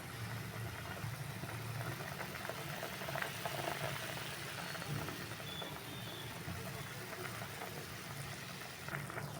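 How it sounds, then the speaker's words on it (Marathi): Cauliflower and pea curry bubbles in a pan over a simmering gas flame, a steady low boiling patter with faint crackle that holds at an even level from start to finish, no voices. "छानपैकी अशी उकळी येऊन द्यायची"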